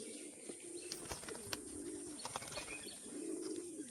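A female tumbler pigeon gives soft, low, repeated coos close by, with faint chirps and a quiet outdoor background.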